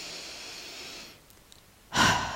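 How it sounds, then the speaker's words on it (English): A single deep breath, taken during a guided relaxation exercise: a quiet stretch, then one loud, close breath near the end. "Now I want you to take a nice deep breath in."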